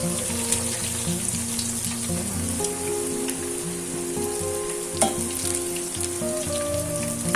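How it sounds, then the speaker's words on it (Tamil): Pieces of cut bread frying in hot oil for a bread halwa, giving a steady, dense sizzle with crackling bubbles throughout, close and constant with no talking. "எண்ணெய் சூடாயிடுச்சு. இனி நம்ம கட் பண்ணி வச்சுக்க பிரெட் பீஸை போட்டுக்கலாம்"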